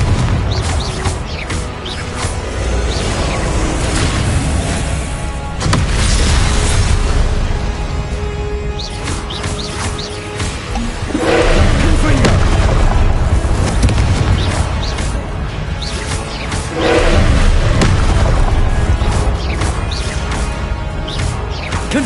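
Repeated fiery spell explosions from Confringo in a Harry Potter video game, loud booming bursts and crashes recurring every few seconds over continuous game sound, no talk.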